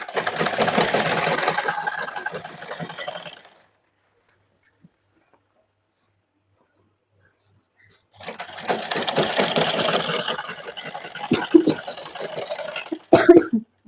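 A sewing machine stitches a pajama seam with a half-inch margin in two steady bursts of fast, even running, a few seconds each, separated by a silent pause and ending with a couple of sharp clunks.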